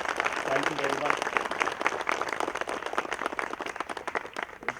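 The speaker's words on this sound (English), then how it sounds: "Can we have another round of applause for their wonderful performance today?" Audience applause following a dance performance at an Indian Independence Day celebration hosted by the High Commission of India, a steady dense clatter of many hands that holds throughout, with faint voices and a brief tone early on.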